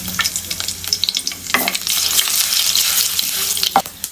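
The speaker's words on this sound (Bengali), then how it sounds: "তেল গরম হয়ে গেছে, এখন দিয়ে দিব ফোড়ন আর শুকনো মরিচ" Whole spices and dried chilies hit hot oil in a pan, bursting into loud crackling sizzle with sharp spits and pops, then settling into a steady fry.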